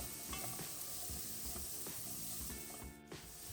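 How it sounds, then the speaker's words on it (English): Garlic and onions caramelize in a pan for Jamaican curry cabbage, giving a steady close sizzle with occasional scraping and stirring clicks. "The garlic and the onions start to caramelize."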